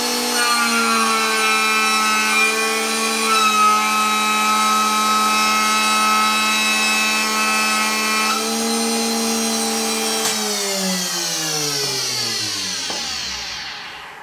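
A chamfering machine cuts a chamfer on a workpiece with a steady high-pitched motor whine and cutting tone, holding even for several seconds before the motor spins down and fades out near the end.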